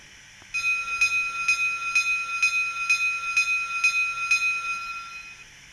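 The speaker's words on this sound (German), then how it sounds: "Dann haben wir natürlich ganz typisch für diese Lokomotive die Glocke." Locomotive bell function on an ESU model of a BR 94 steam engine, 94 1292 "Rennsteighirsch": a clear metallic bell rings about ten evenly spaced strokes in a steady rhythm, close and alone.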